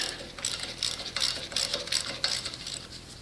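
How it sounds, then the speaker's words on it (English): A 1/4 inch ratchet backs out an 11 mm bolt on a lawn mower's front caster, giving close, steady bursts of quick metallic clicking in an even rhythm with no talking. "So I'm just going to remove it with my, this is just 1/4 inch ratchet."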